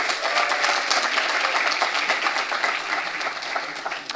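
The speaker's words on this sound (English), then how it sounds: "A big round of applause for him." A graduation ceremony audience gives a round of applause, a dense, steady crackle of many hands clapping that holds for about four seconds and eases off slightly at the end.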